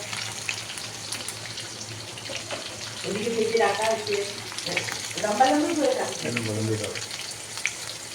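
Chilli chicken frying in a pan gives a steady close sizzle throughout, with voices talking over it in the middle stretch.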